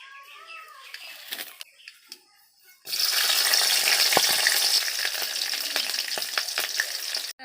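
Nigella seeds and green chilies hit hot oil in a Bengali home kitchen, bursting into a loud, steady sizzle that runs several seconds after quieter sounds with a voice, with occasional stirring clicks.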